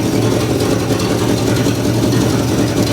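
A Chevy mule hauler engine, revived after sitting parked in the desert for 20 years, runs steadily with a loud, dense, even drone while its carburetor is adjusted, close by and with no talk.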